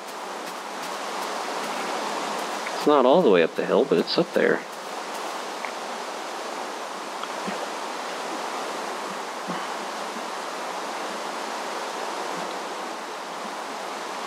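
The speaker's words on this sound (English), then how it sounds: "Oh, look at that waterfall." Steady broadband rush of a waterfall in Minecraft with the Tekkit modpack, a continuous wash of water noise running the full length, with a person talking briefly over it near the start.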